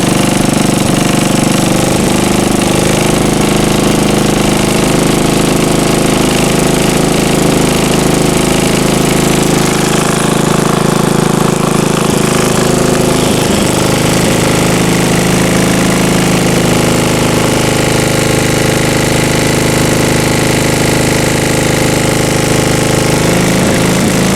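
A 74-year-old Briggs and Stratton engine runs hard on a dynamometer, a loud, close, unbroken mechanical roar with a steady low drone and a rapid chattering rhythm that holds throughout.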